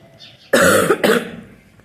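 Two harsh, close coughs in quick succession, the first longer and louder, followed by quiet.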